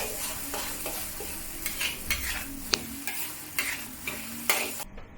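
Mushrooms with XO sauce stir-fry in a hot pan, a steady sizzle broken by repeated scraping strokes of a spatula and a faint metallic clink, close and clear with no voices.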